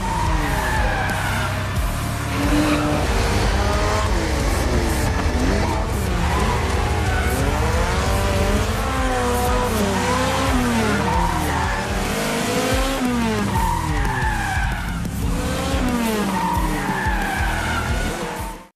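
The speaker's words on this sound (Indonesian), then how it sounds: "Terjadi aksi kejar-kejaran serta drifting yang memukau antara 240 SX dengan Skyline IR34" A Nissan 240SX and a Skyline R34 race cars drift in a motorsport scene, with loud sustained tire squeals sliding up and down in pitch over roaring engines, continuous and close for the whole stretch.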